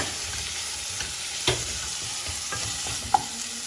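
Tomatoes frying with chili powder in a pan for pav bhaji, a steady hiss-like sizzle with a couple of sharp utensil taps, nearby and fairly soft, no voices.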